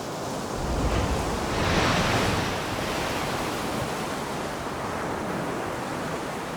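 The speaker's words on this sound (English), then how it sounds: "To this day, wind and waves shape the shores." Waves wash onto a Baltic Sea shore under steady wind, a dense, loud roar of surf that swells near the start and then holds a constant rushing hiss.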